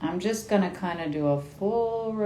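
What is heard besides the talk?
None of the usual background noises is heard.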